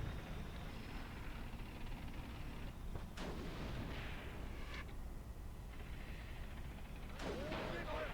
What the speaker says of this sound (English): Machine gunners are also shooting at it.